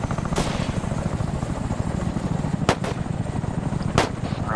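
A military helicopter from the combat game ARMA 3 thumps steadily nearby with rapid rotor chop, loud and constant, while a few sharp gunshots crack over it.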